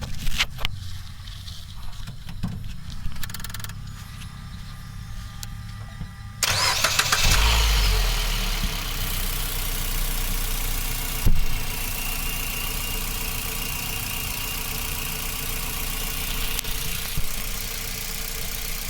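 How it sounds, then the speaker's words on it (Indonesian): A 2019 Mitsubishi Xpander Sport with the 1.5-litre 4A91 engine and manual gearbox cranks and fires partway through, then settles into a steady, close idle hum that runs to the end. "kita akan start engine dulu untuk di mobil ini menggunakan mic ya"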